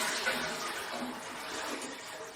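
A voice imitates a toilet flush with a steady, rushing, watery hiss that holds evenly for a couple of seconds without any clear pauses.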